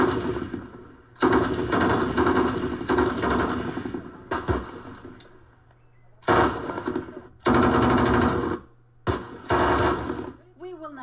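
Rapid machine-gun bursts at a North Korean live-fire drill come in several loud volleys separated by pauses, with a low steady hum beneath and a brief voice or tone near the end.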